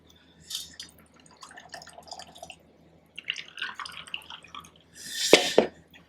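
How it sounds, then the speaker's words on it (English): Ginger beer is poured into a cocktail glass, giving light fizzing drips and small splashes that build to a louder burst of pouring near the end, close and fairly quiet. "Pour a little more ginger beer down in there."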